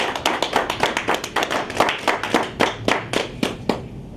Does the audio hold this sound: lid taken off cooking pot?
no